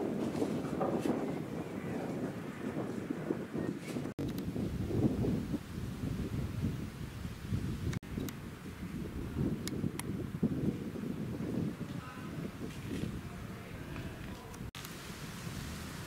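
Steady wind gusts and buffets across the microphone at Lake Orta, Italy, a continuous rushing roar with no voices.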